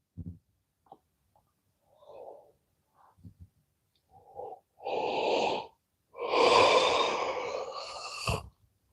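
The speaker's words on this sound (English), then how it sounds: "When I yawn, you hear me?" A person yawns with audible breaths, starting with small sniffs and soft exhales, then two long, drawn-out voiced yawns that swell loudly near the end before a brief closing breath.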